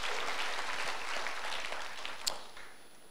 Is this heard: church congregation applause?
yes